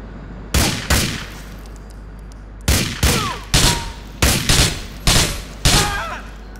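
Sharp, loud gunshots in the video game GTA IV, about nine distinct cracks, first an early pair, then a steady series of single shots spaced roughly half a second apart, each with a short echoing tail.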